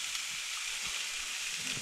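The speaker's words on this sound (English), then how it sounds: "I'm gonna do up a stir fry. And some more venison." Venison stir fry sizzles in a pan inside a heated tent while ice fishing, a steady close hiss with faint scrapes and no talking.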